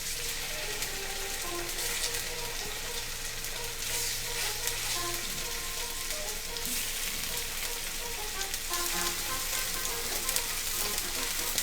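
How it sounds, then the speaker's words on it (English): Scallops seasoned with salt and pepper sear in a hot pan, giving a steady broadband sizzle that runs unbroken near the mic, with faint scraping and a low hum underneath. "And then we're going to sear."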